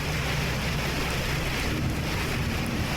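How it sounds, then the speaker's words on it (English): Loud thunderstorm over a swamp in the survival game Cataclysm: Dark Days Ahead, steady heavy rain hissing with low rumbling thunder, continuous and close, no voices. "It's a very, very loud thunderstorm we're dealing with now as well."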